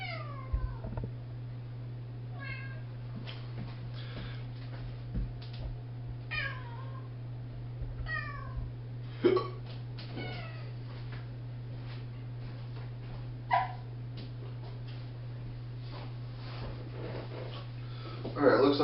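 A pet cat meows repeatedly at close range, short separate calls spread across the stretch, a few louder than the rest, over a steady low electrical hum.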